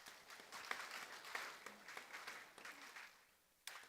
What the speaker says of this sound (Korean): 우리 환영과에 박수합시다.